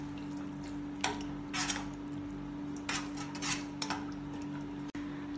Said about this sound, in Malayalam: ഇത് ഇളക്കി മിക്സ് ചെയ്യാം.